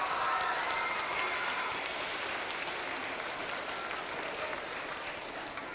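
At an Indian Mounds school reading challenge event, the audience gives Rashad Jennings another round of applause, a steady, moderately distant wash of clapping that slowly tapers over about six seconds.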